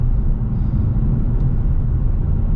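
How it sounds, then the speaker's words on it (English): A Ford Mustang EcoBoost downshifting through the gears with paddle shifters, heard as a loud, steady, low engine rumble close by. "So now we're gonna do the downshifting."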